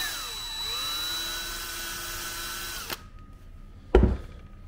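A power drill runs steadily, widening a hole in a DIY holster for a Streamlight TLR-1 HL light, then cuts off abruptly, followed by a brief sharp clack. No one speaks.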